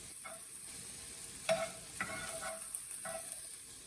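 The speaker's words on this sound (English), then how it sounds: "So while you're cooking the onions, you want to make sure that you're moving them around so they cook more evenly and don't burn." Onions frying and sizzling in a pan, stirred with a utensil in a few distinct scraping strokes over a steady close sizzle.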